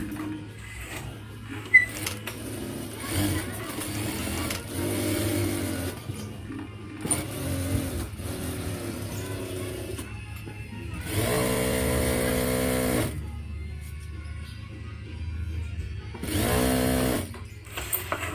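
Sewing machine stitching a folding three-panel Inoac foam mattress cover without overlocking, running in bursts of whirring with a loud steady run near the end, separated by quieter handling sounds.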